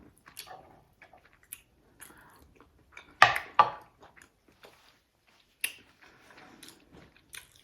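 Someone chews a mouthful of homemade seafood stew with sausage and smoked paprika. The chewing is quiet, soft and close, with a couple of louder wet bites near the middle.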